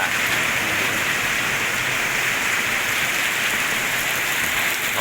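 Heavy rain pours down steadily around a house, a dense, even hiss that holds at the same loudness from start to end with no voices.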